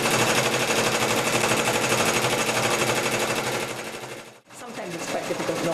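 A sewing machine running decorative stitching on a waistcoat, a loud, fast, continuous mechanical rattle that stops briefly near the end, then starts again.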